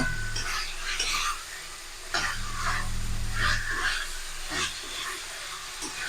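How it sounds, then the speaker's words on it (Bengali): Fried potatoes being stirred into spices in a pan for a raw banana and chana dal dish, with a spoon scraping in repeated strokes over a low, steady sizzle, close and moderately loud. "এবার মশলার সাথে আলুটা ভালো করে মিশিয়ে নেব"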